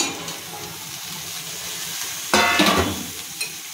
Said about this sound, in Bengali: কাঁঠাল বীজটা ভালো ভাজা হয়ে গেছে। এবার আমি দিয়ে দিচ্ছি টমেটো, কাঁচা লঙ্কা, বরবটি আর ঝিঙে